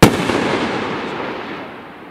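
Lynch Imports Uncle Slam 1.4G reloadable canister shell firework going off: one sharp loud thump from the launch tube, then a rushing crackle that slowly fades, no voices.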